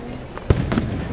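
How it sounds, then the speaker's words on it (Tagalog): Fireworks bursting outdoors on New Year, a sharp loud boom followed by a couple of softer crackling pops against steady background noise. "Biglang nag-fireworks."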